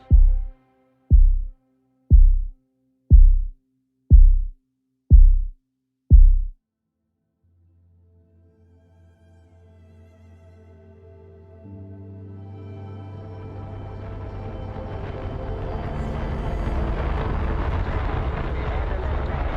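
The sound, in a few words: rocket engines roaring at launch, kerosene and liquid oxygen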